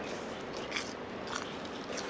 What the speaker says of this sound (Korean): 바삭하는 소리 들려줘야 되는 거 아니야?